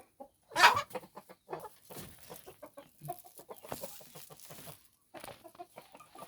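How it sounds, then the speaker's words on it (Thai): Young hens kept as breeding stock cluck softly and irregularly in a quiet farmyard, with one louder squawk near the start and scattered bird calls throughout. "เป็นไก่นุ่มไก่สาว"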